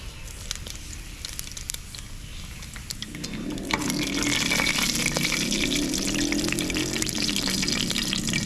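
Mustard seeds splutter in hot sesame oil with a little cumin in a pressure cooker on the stove. A quiet start swells after a few seconds into a steady, hissing, crackling sizzle that continues to the end.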